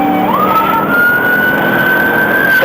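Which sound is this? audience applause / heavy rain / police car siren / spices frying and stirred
police car siren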